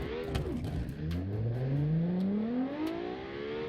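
A race car engine with a single exhaust revs in the Automation game, a 1992 DTM challenge build, with a loud rising whine that climbs steadily in pitch as it accelerates, close and dominant.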